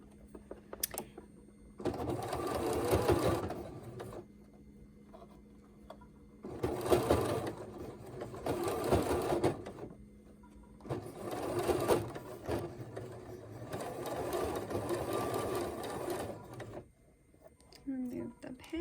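A sewing machine stitches and back-stitches a fabric surgical mask in several bursts of rapid whirring, separated by short pauses, close by.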